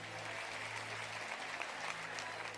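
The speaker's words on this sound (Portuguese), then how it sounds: "Os que podem, tomem o seu assento aplaudindo a Jesus" A church congregation at a convention in Manaus applauds continuously, a dense, steady wash of clapping heard at moderate distance with a low hum underneath.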